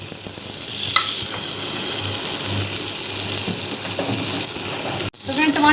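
Chopped tomatoes tipped into browned onions frying in a pan for spicy Manchurian Maggi noodles, giving a loud, steady sizzle that runs throughout, with a few stirring clatters and a sharp utensil knock near the end.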